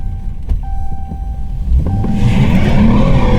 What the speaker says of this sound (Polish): Więcej gazu, Marcin, więcej gazu.